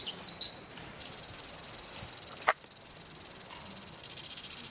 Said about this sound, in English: We have modified a TV remote control such that now the infrared LED is being played through a speaker.